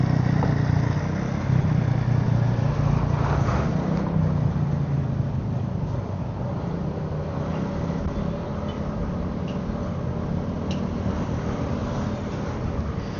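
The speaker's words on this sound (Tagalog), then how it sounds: "Dito medyo maraming sasakyan dito." Steady road traffic near Teresa, Rizal, a continuous rumble of passing cars and motorcycles heard from roadside, moderately loud with engine hum that swells and eases as vehicles go by.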